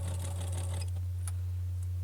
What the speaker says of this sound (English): It was a little bit easier with my sewing machine.